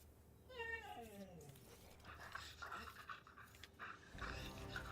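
A dog character in the video game Destiny whimpers and yelps in a rising, falling whine near the start, followed by soft panting and game ambience.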